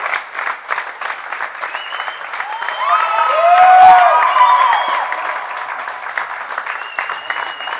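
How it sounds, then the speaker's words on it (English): Crowd applause fills the court at ASU after the women's Division I collegiate national four-wall handball final, steady dense clapping for about eight seconds that swells in the middle, with a few raised voices and a brief cheer over it. "That is a round of applause"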